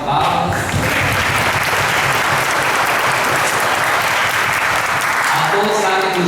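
Sustained applause from a crowd at a Corpus Christi religious celebration in Batalha, Piauí, steady and dense clapping that fills the whole stretch without pause.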